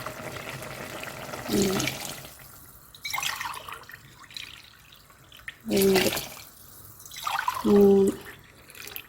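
Water is poured from a tumbler into a pot of cooking wheat rava in a home kitchen, arriving in several separate splashing bursts with quiet pauses between them.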